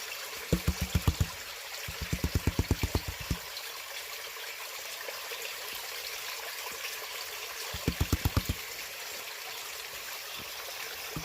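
Water sloshes in short rhythmic bursts as gold concentrate from crushed quartz is washed back in a gold pan, with three runs of swishes spread across the clip over a steady background rush of flowing water.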